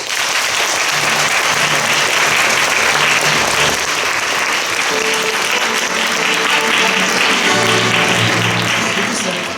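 Sustained, loud audience applause at a school induction ceremony for new gymnasium students, dense steady clapping filling the whole stretch, with faint music underneath.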